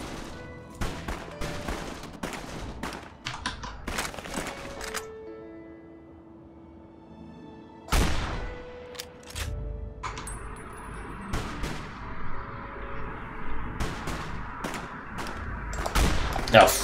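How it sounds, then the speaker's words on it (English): Gunfire from the video game Fallout New Vegas: scattered sharp shots and bursts recurring through a busy game soundscape, with a quieter stretch in the middle and a loud crack near the eighth second. "I hear guns"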